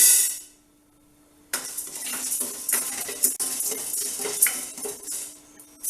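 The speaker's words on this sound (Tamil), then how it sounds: "இப்போ வெறும் கடாயில் நம்ம மிளகாய் வறுக்க போகிறோம்" Dry chillies tossed in an empty kadai give a run of light metallic clinks and scraping rattles, close and moderately loud, after about a second and a half of near silence.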